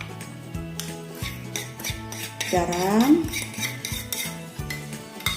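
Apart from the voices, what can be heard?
grinding spices with mortar and pestle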